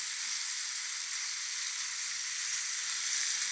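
Dried salted fish simmering with tomatoes and brinjal in a pan, a steady, even hiss of sizzling liquid with no breaks, close and fairly loud, nobody speaking.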